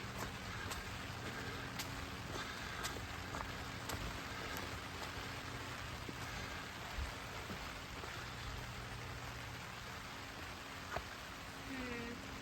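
Steady rain falls outdoors during a Halloween yard decorating setup, a constant even hiss of drops with occasional faint taps, continuous through the whole stretch without a break.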